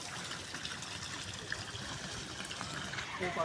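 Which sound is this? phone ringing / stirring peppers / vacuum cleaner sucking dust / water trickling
water trickling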